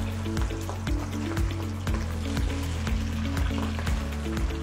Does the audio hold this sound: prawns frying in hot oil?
yes